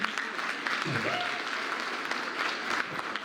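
An audience of railway workers claps at a union leader's speech, a steady dense applause throughout, with a brief voice over it.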